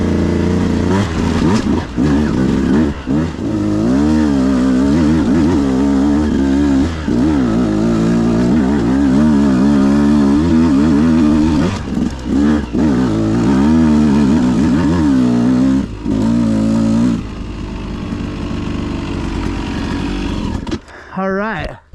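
A 2022 Beta 200RR Race Edition two-stroke dirt bike ridden hard on a trail, its engine loud and close, revving and wavering constantly with throttle changes before easing off near the end.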